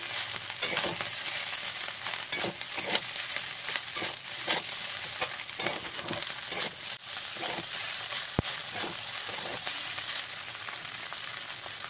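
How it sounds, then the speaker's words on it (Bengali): Spicy egg pasta being stirred with pasta masala in a frying pan: steady sizzling hiss under repeated scraping strokes of a spoon against the pan, close and continuous, with no talking. "এবার নামানোর আগে আমি পাস্তা মশলা ছড়িয়ে দিয়ে নামিয়ে দেবো। মশলাটা দিয়ে মিশিয়ে নেব।"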